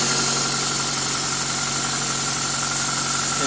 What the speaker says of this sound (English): And engine speeds are already better, 1300 RPM.